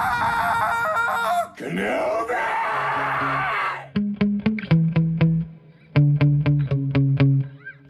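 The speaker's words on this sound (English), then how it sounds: "get ready for some more of those sweet, sweet screams from Sam Witwer." Screams from the Star Wars: The Force Unleashed II video game, a distorted, effects-laden voice crying out in a drawn yell, followed by a series of rhythmic punchy hits and tones.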